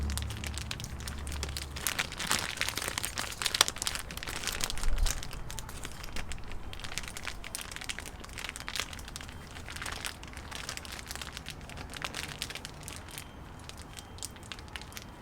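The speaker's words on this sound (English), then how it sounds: "So now I just start to tighten the plastic around" Plastic wrap crinkles and crackles as it is tightened around a Shimpaku juniper branch being air layered for bonsai, soft irregular rustling up close and fairly quiet, with no talking.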